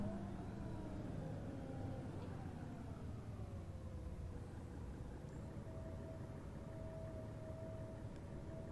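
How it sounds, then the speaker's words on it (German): Mercedes OM906 HLA bus engine from an Omsi 2 sound mod, a faint low steady engine drone with a slowly shifting tone as it idles or cruises. "hier ist ein kleiner Soundmod-Erweiterung mit einem OM906 HLA-Motor im Solo- und Gelenkfahrzeug plus extra Boosterteilen"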